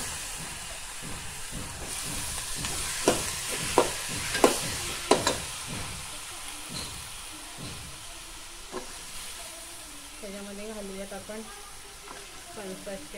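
Onion, brinjal and potato fry with a steady sizzle in a pan, broken early on by a series of sharp spatula scrapes and clacks as the pieces are stirred, then a calmer hiss with faint voices nearby toward the end.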